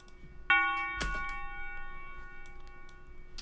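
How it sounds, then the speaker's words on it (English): A single bell sample in a trap beat built in FL Studio strikes once with a bright ringing tone that sustains and slowly fades, with a soft percussive hit shortly after. "And then gotta have that bell."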